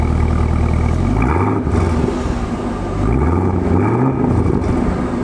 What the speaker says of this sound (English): that is the stock startup